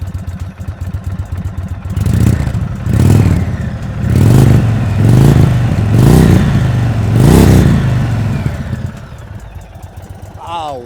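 A 2022 Indian Chief Dark Horse motorcycle engine idles, then is revved five times in a row. Each throaty, rising blip fades back down before the bike returns to a close, rumbling idle.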